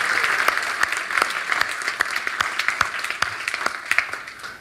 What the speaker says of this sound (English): And you can give her a big round of applause.